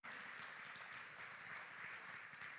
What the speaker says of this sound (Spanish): denle en palmas a Jesús, hermano